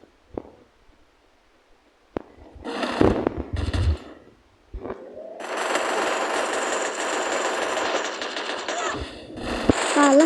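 Gunfire in the Free Fire shooting game: scattered single shots, then rapid bursts and a long sustained stretch of automatic fire, loud and close, with brief quiet gaps between.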